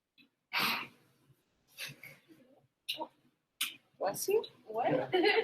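A sharp sneeze bursts out in a chemistry classroom, followed by a few more breathy exclamations and voices talking nearby.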